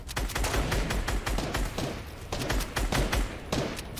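Rapid gunfire rattles in a Floor is Lava battle-royale match, a dense run of sharp close shots in quick irregular bursts filling the whole stretch.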